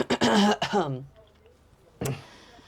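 A person's voice gives a rough, rising throat-clearing sound, followed after a pause by a short harsh burst.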